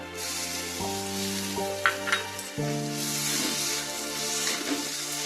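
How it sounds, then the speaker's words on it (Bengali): Chopped tomato and slit green chillies hit hot sizzling masala for a Bengali fish-head muri ghonto, giving a close, steady hiss with occasional stirring clinks, under soft background music. "এখন দেব টমেটো কুচি, চেরা কাঁচা লঙ্কা"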